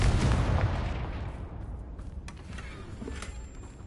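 The Confringo fire spell in Hogwarts Legacy goes off as a loud, booming explosive blast with a deep rumble, which fades slowly into a crackling tail with faint scattered pops.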